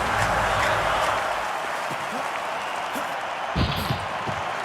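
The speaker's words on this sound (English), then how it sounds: "Diving under the bar gets you nothing other than a round of applause from some." A steady wash of crowd applause and cheering in the London 2012 Olympic video game fills the background at moderate volume, with a few faint thuds near the end.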